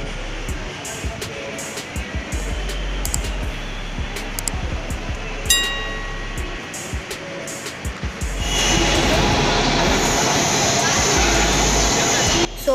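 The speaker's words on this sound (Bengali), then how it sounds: "তো বন্ধুরা ট্রেন চলে এসছে।" A Kolkata East-West Metro train pulls into a new station, its rumble and rushing hiss swelling loudly in the second half over a noisy platform, with scattered clicks and a brief tonal chime earlier.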